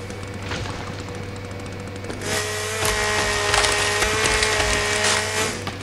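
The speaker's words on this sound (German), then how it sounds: "Ist der Baum gerade so schnell umgefallen?" A tree crashes down in The Forest survival video game, a loud woody splintering burst that swells into a sustained crackling rumble over a steady low hum.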